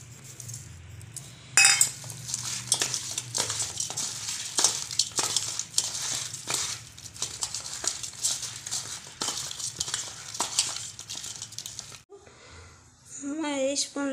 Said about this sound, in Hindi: स्वाद अनुसार लुण और हल्दी दे गुलाइबा।